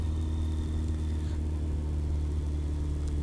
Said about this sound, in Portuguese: eu tô batendo a chave, a moto já pega